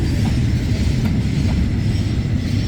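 The Hitachi 4507 locomotive rolls along the rails with a steady, loud rumble and faint clicking of wheels, heard without talking.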